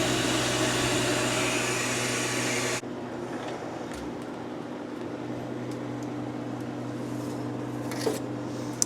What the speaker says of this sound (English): I have to open the drain valve to release the pressure